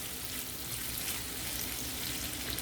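Ginger sautéing in a pan gives a steady, dense sizzle of frying with no pauses, close and fairly loud, alone without any talking.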